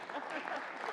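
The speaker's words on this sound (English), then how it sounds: "Can we clap in here?" Brief burst of applause in the Colorado Senate chamber, a dense patter of many hands clapping at once, fairly close and steady for one second.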